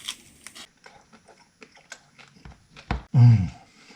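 Close crunchy bites and chewing of a breakfast skillet pizza topped with pepperoni and onion bacon jam, scattered soft mouth noises ending in one loud crisp crunch.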